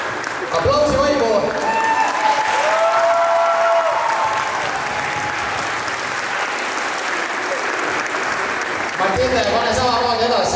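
Audience applause for a young dancer at a school dance competition in Koeru, a loud, dense burst of clapping, with a presenter talking over it at the start and again at the end.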